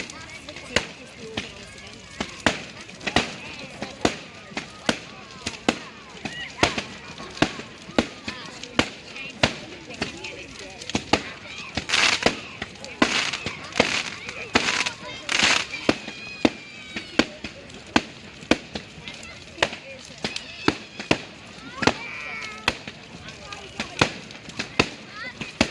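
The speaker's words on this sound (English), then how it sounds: "More fireworks." Fireworks go off on bonfire night in a long run of sharp bangs and crackling pops at an irregular, quick pace, some near and loud, with voices talking now and then.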